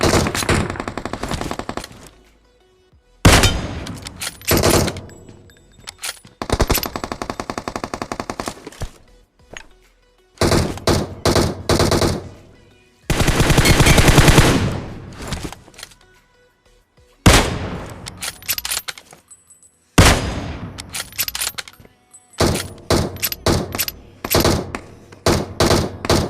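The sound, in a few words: gunfire in the video game BGMI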